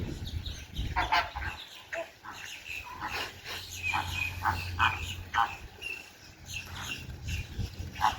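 Flamingos in an aviary at Gatorland, Florida: a chorus of honking, goose-like calls, repeated and overlapping at moderate distance, with faint talk and outdoor background.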